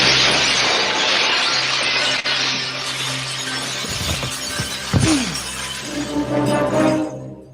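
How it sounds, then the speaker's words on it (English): A large decorative glass wall shatters in an audio drama scene, a loud sustained crash of breaking glass with scattered tinkling shards and a few heavier impacts as debris settles, no voices. "A man with an eye patch goes flying backwards through a large decorative wall of glass."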